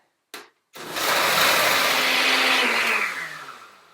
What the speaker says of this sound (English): Put it on the blender and blend it up.